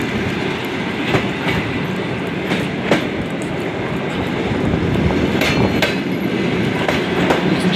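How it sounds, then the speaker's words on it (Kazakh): A train at Shetpe station rumbles steadily with rhythmic clickety-clack from the wheels and occasional sharp metallic knocks, loud and close throughout. "Пойыз аз тұрады енді бұл жерде."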